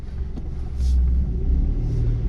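A Citroen C1 engine settles into a running idle just after starting, a low close rumble that swells slightly and then holds steady.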